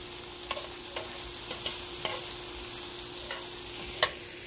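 Food fries in olive oil with a steady, faint sizzle close by, broken by a few light clicks of stirring, and no voices.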